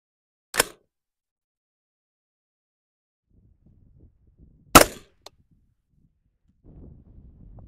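Supersonic 300 Blackout rifle shots fired toward a target at the 100 yard line outdoors: two sharp, loud cracks several seconds apart, with a faint trailing report and light wind noise between.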